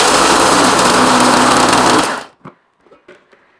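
Vitek VT 7019 electric chopper grinding at its second speed, a loud steady high-pitched motor whine that runs for about two seconds and then cuts off abruptly, leaving a few faint knocks and rattles.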